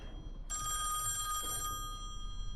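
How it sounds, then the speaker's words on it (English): In the horror game Song of Horror, a telephone rings once with a bright electronic trill lasting about a second, clear over a quiet, low ambient drone. "The phone."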